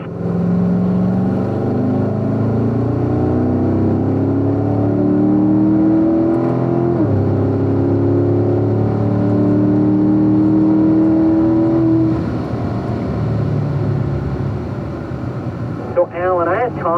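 A race car accelerates hard down a track straightaway, its loud engine note climbing steadily in pitch through the gears and holding close and continuous for the whole stretch, with no talk over it.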